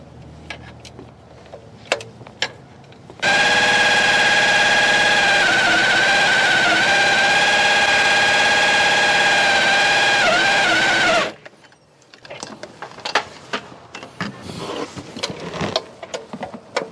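A small block Chevy 350 V8 in an OBS truck fires up for the first time, a loud steady roar holding for about eight seconds before cutting off, with clanks and knocks of work on the truck before and after.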